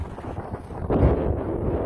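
Wind buffets the microphone in low, rumbling gusts at Stave Lake in Mission, BC, swelling noticeably partway through and staying rough and blustery.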